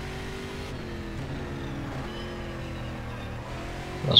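Race car engine in Game Stock Car 2012 holding a steady mid-range drone with layered harmonics, accelerating out of a corner, rising slightly at the end with a brief sharp tick.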